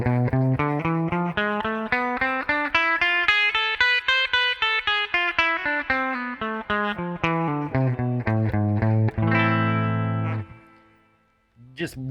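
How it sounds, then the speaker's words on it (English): An electric guitar run through effects plays the A harmonic minor scale, with fast distinct notes climbing and then descending in a smooth arc before a held low note fades out, close and loud with no talking. "if you just played the A harmonic minor scale, which sounds like this."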